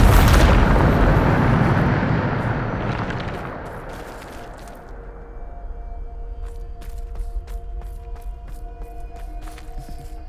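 Bombarda explosion spells blasting in Hogwarts Legacy: a heavy booming detonation opens loudly, rumbles and fades over several seconds, then scattered crackling debris and sharp clicks follow over a low hum.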